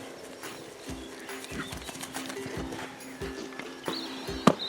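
A pony shuffles and thumps close by as it moves and rolls on the ground. Soft, irregular hoof knocks and scuffs come through against a quiet outdoor background, ending in a sharper knock.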